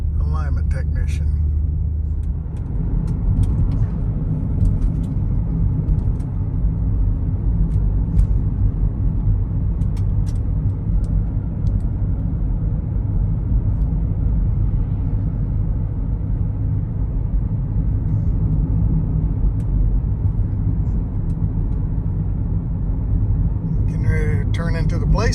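A 2007-2013 BMW X5 4.8i E70 with the N62 engine drives straight along a road after new inner and outer tie rods and an alignment, giving a steady, loud low rumble of engine and road noise while someone talks over it.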